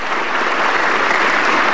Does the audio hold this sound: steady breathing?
no